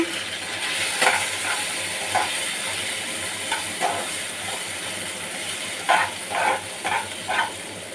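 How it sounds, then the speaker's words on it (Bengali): Washed lentils fry in oil with a steady hissing sizzle, broken by scattered spatula scrapes that cluster into several quick strokes toward the end. "দিয়ে ডালটা একটু ভেজে নেব। ডালটা ধুয়েই নিয়েছি আমি তেলে ভাজবো বলে।"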